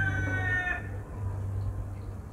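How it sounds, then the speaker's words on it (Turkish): Roosters crowing in Midyat, Mardin, one loud nearby crow with rising harmonic calls fading after a second, followed by steady low rumble and outdoor background noise. "Bir taraftan horozlar da ötüyor."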